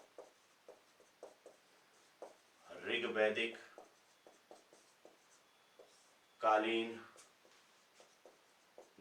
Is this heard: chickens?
no